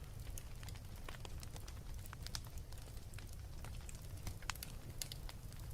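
A fire crackles softly at low volume, with scattered sharp pops and snaps over a steady low hiss, with no voices.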